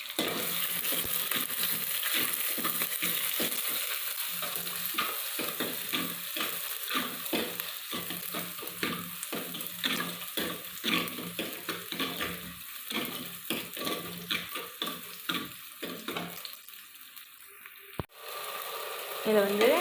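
Onion and curry leaves sizzle in hot oil in a home kitchen, a steady frying hiss broken by repeated scraping strokes of a spoon stirring the pan, continuing throughout.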